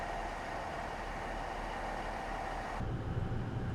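A simulated Class 43 train's VP185 diesel engine roars steadily at full power, a broad continuous drone with a constant hum, growing slightly rougher and louder toward the end.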